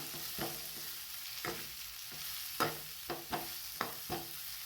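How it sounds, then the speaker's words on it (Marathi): Roselle leaves mixed and stirred in a pan, a series of distinct scraping stirs at an uneven rhythm over a low background sizzle, close and fairly quiet. "आता ही भाजी टाकूयात आपण याला छान मिक्स करून घ्यायचं"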